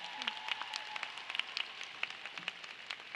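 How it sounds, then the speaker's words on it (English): Scattered, faint claps from the audience at an Englewood High School 2018 graduation ceremony, sparse and distant, with isolated sharp hand claps over a quiet room rather than a full ovation. "Let's applaud their success."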